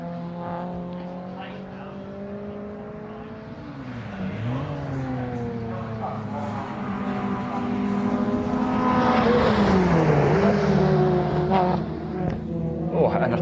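MG race cars on a circuit, engines howling as they approach, with pitch sweeping up and down through gear changes and passes, loud and building toward the end, under a commentator's talk.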